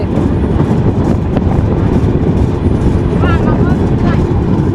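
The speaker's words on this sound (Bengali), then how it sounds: "আর চলছে রূপসী বাংলা ট্রেন" Ruposhi Bangla Express train running out of Benapole, heard from on board as a loud, steady rumbling roar with faint rhythmic rattles, and a voice briefly audible beneath the din.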